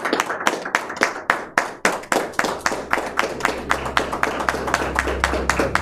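Clapping from a church congregation at an evangelist's gathering, loud and fairly distinct hand claps in a steady crackling stream, joined by a low hum of a sound system partway through.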